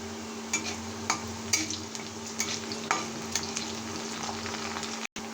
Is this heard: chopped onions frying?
yes